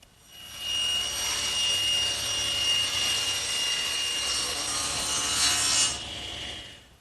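A saw rips a sheet of plywood lengthwise into a 10.5-inch strip, a loud, steady high whine of the blade cutting through wood for about five seconds before spinning down, no talking.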